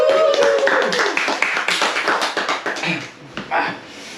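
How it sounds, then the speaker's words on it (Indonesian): A group claps hands together at an indoor gathering, the applause dense at first and then thinning into scattered claps, with voices talking over it. "Tepuk tangan lagi."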